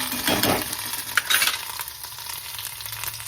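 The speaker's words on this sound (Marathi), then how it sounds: "मिरची आणि आलं घातलं" Green chili and ginger sizzle steadily in hot oil as a tempering for curd rice, a close, loud, continuous frying hiss with a brief sharper crackle burst early on and no talking.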